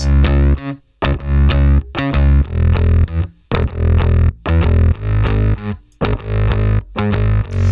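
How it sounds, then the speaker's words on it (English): A distorted electronic disco bass with a tape effect plays a punchy, stop-start line of short repeated notes with brief gaps between phrases, loud and alone. "It's a really stripped down version of what an actual disco bass would sound like."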